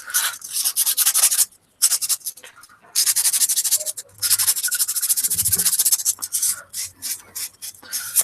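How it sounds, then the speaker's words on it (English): Steady abrasive rubbing and rasping from sanding and polishing handmade metal wedding rings, in long continuous strokes with brief pauses between passes, close and fairly loud. "a lot of polishing, a lot of sanding, many hours doing this sort of thing"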